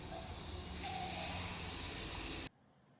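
Water poured into a hot wok while cooking new-potato aloo dum erupts into a loud, sustained hiss that swells after a moment, holds steady, then cuts off abruptly, leaving near silence with no talking.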